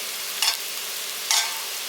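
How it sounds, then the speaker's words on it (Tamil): Vegetables sautéing in oil for wheat rava kichadi, a soft steady frying hiss with two brief louder bursts as they are stirred. "காய் கொஞ்சம் நல்லா வதக்கி விட்டுருங்க"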